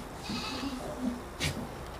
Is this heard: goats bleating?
yes